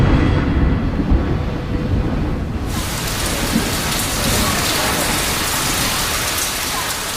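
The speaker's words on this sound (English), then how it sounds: "And then it begins to rain." Heavy rain pours down at an outdoor concert near the Kremlin, a dense, steady roar of water that grows fuller and brighter after a few seconds and continues unbroken.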